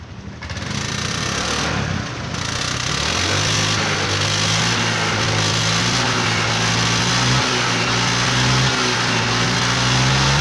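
An old Honda Vario 125 scooter with a smoking exhaust idles steadily and loudly up close, then revs up and holds a higher engine tone without any talk.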